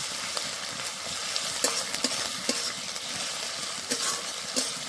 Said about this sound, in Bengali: আদা রসুন দিয়ে কিছুক্ষণ নেড়ে নেব